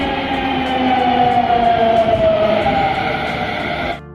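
A Delhi metro train runs steadily with a loud, continuous rolling rumble and a rising-falling electric whine, close by and without talk, cutting off abruptly near the end.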